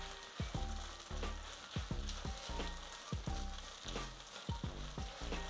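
Asparagus risotto with wine, fresh thyme and broth stirred in a pan, a steady soft sizzle with repeated scraping strokes in a loose rhythm, quiet and close, no voices.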